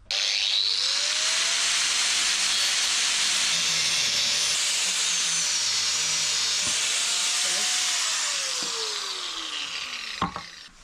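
Angle grinder or cutting disc slicing through a 44mm steel socket in a workshop, a loud continuous high-pitched screech with a shifting whine that fades near the end and stops with a clunk.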